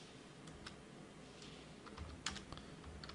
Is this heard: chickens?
no